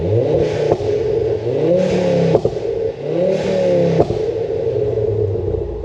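A Mk2 Ford Focus ST engine revs close by in three loud, rising blips. Each climbs and falls back, and each ends in a sharp crack or pop, with a rumbling idle in between.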